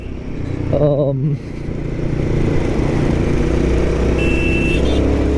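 A Royal Enfield Guerrilla 450 motorcycle rides along mountain twisty roads, its engine giving a steady, close droning hum at mid revs mixed with wind rush, with a brief tonal swell near the start.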